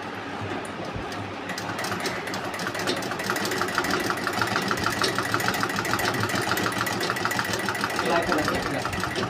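A sewing machine runs continuously at home just after repair, a busy mechanical whir and rattle that grows louder a few seconds in and keeps a steady fast rhythm.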